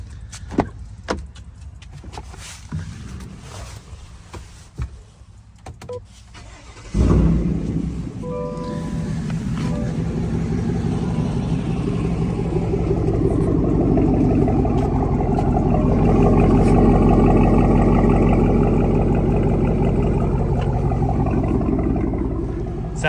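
A truck with true dual exhaust cranks and fires up after a few quiet seconds of clicks, then settles into a loud, deep rumbling idle that swells gradually, close to the microphone with no talking.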